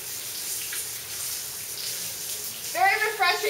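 Water splashes and rinses off a person taking an outdoor shower in the rain, a steady hiss of rain and running water with louder splashing bursts near the end, with no talk over it.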